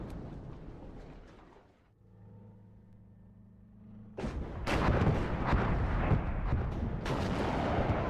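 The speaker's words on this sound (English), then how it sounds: "Gets the clean kill on the ATGM here with this artillery piece, it looks like." Artillery in the WARNO wargame fires in heavy, rolling blasts. The first bursts fade into a low mechanical hum, then a string of loud, overlapping booms rumbles on close by.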